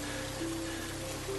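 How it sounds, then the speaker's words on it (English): Rain drums steadily on a wooden shelter during a storm, a dense continuous patter with faint sustained tones underneath. "he listened to the rain drum on the shelter"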